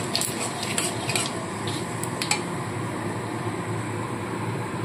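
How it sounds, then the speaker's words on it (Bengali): Bay leaf and whole cumin seeds tempering in hot oil, a faint steady sizzle broken by a few sharp crackles and pops near the start, with no voices. "এবার এই তেলের মধ্যে একটা তেজপাতা আর একটু গোটা জিরে ফোড়ন দিয়ে দিচ্ছি।"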